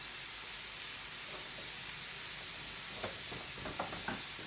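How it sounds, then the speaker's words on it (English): Kidney beans fry in a pan for chilli con carne, giving a steady soft sizzle throughout with a few louder stirring scrapes near the end. "I like to add the kidney beans and fry them off"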